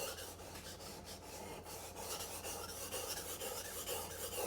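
A dull knife being sharpened along its edge bevel, a steady close rasping scrape with a few quick strokes, then continuous grinding friction, fairly quiet.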